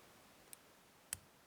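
Two sharp, faint clicks about half a second apart as pins set while a vintage Yale 840 padlock is picked, close up and alone in a quiet room.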